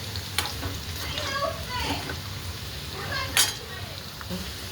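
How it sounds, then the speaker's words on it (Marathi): Potato finger chips fry in hot oil, giving a steady, close sizzle with occasional stirring scrapes, and a voice-like sound is briefly heard in the background. "मस्त असं तळून आपलं व्हायला लागलं आहे"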